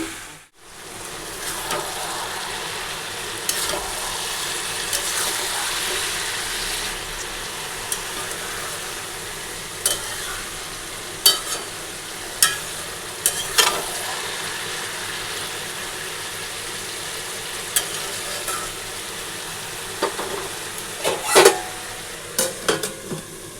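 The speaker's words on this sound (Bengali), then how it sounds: "তো হয়ে গেছে আমার চাল কুমড়ো ঘন্ট বলো ভাজা বলো।" Salted ash gourd stir-fries in a home kitchen pan, giving a steady, even sizzle throughout with scattered sharp clicks and scrapes of a spatula against the pan, loudest near the end, and no talk.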